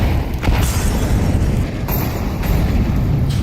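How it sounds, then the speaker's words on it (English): Heavy grenade blasts at the start of a Counter-Strike 2 round fill the clip with a loud, continuous rumbling boom and overlapping explosions. "That's a lot of grenades at the start of the round."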